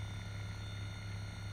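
A Hydragun Atom mini massage gun runs on its first level, giving a steady, low motor hum with a constant buzzing tone, faint and continuous with no talking.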